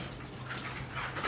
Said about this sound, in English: my dog is trying to catch the cat.